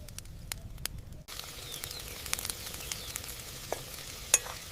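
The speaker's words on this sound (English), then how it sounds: "Now, we let it simmer." Dal simmers in a miniature cooking pot over a village-style fire, giving a soft, steady sizzling bubble with occasional light stirring clicks and faint ticks, low and close throughout.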